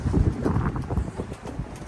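Strong wind buffets the microphone in heavy, rumbling gusts, with a few faint clicks and knocks in the background.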